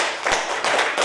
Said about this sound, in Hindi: तो ताली तो चाहिए इसके।